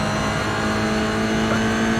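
Steady, loud engine drone of a Toyota GR86 race car in the iRacing sim, holding a constant pitch with a slight shift near the end and no talk over it.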